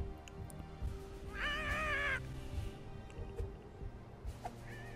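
A cat meows once, a clear drawn-out call in the South Park: The Fractured But Whole video game, heard over a low game ambience with a faint second meow near the end.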